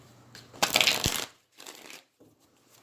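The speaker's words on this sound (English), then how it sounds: "I'm shuffling from the Santa Muerte Tarot." A deck of Santa Muerte tarot cards is shuffled by hand, giving a loud papery riffle followed by two softer, shorter shuffling bursts, close up and quiet otherwise.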